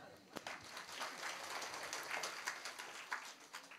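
Several people clap in a Marathi gathering, a loose crowd-like patter of hand claps running steadily throughout with a few sharper, louder claps standing out near the start.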